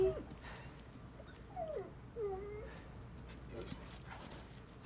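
A puppy in the Resident Evil 4 Remake video game whimpers and yips softly, a few short rising whines spread over a quiet background.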